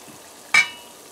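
Whisked eggs poured into a pan of frying potatoes over low heat, giving one sudden bright sizzling burst that quickly fades back to a faint, steady fry.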